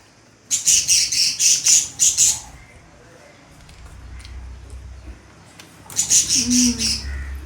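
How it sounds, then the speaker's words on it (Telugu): Sparrows chirping in two dense, loud bursts of rapid, overlapping calls, a quieter stretch with low rumble and faint murmuring between them. "ఏంటే అరుపులు చూడు పిచ్చుకలి"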